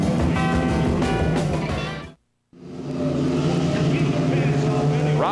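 Stock cars racing at the ASA Anderson 400 at Anderson give a loud, steady engine roar that cuts out briefly in the middle, then resumes at full strength, with commentary running over it.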